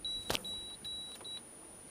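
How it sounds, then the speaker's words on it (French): A sailboat's system alarm sounds aboard under sail, a series of thin electronic beeps at a steady pulse, briefly interrupted by a sharp knock, heard quietly and close. "Ah, alarme système."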